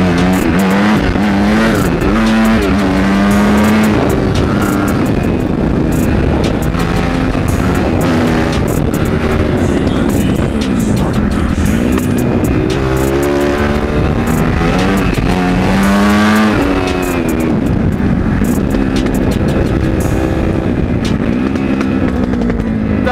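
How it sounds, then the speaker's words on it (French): A loud motorcycle engine in need of tuning roars continuously up close, revving up and down through gears with occasional sputtering, backfiring bursts. "faites pas attention au bruit de la moto, c'est normal, elle a un réglage à faire"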